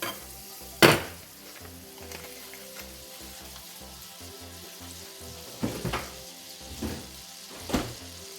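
Butter sizzles softly in a kadai on the stove, a faint steady frying hiss broken by a few sharp stirring knocks and clinks, with no one speaking.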